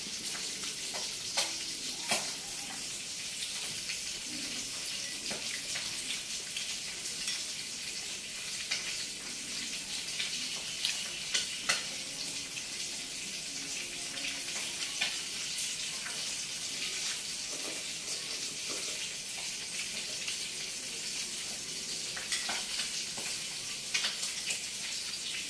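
Whole fish, gourami, frying in a pan of oil in a home kitchen: a steady, continuous sizzle and crackle with scattered sharp pops, even and moderately loud throughout, with no voices.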